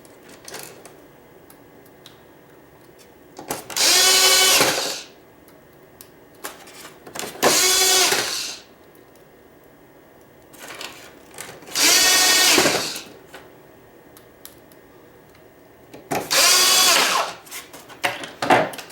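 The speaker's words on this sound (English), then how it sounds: "So all you gotta do is place it and just screw them back in there." Screws driven back into a hoverboard with a power driver, four separate whirring bursts of about a second each, spaced several seconds apart, close and fairly loud with quiet handling noises between.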